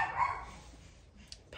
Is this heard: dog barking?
yes